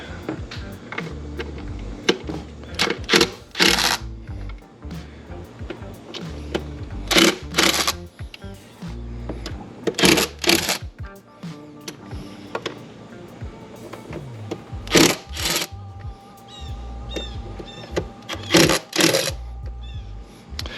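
Bolts are removed with a ratchet on a Cummins 6.7 diesel engine during a CCV replacement, heard as repeated bursts of close, loud clicking and whirring with metallic handling in between.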